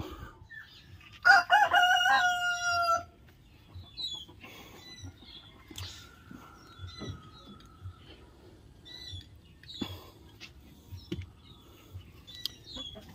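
Chickens in a nesting area, with a loud rooster-like crow near the start followed by scattered soft clucks and squawks, alongside rustling and handling noises.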